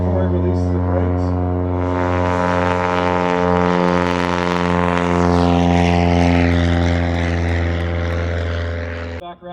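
A light touring propeller airplane at a STOL competition in Valdez, Alaska runs its engine at full power before brake release, a loud steady droning buzz with strong harmonic tone that swells slightly, without pause.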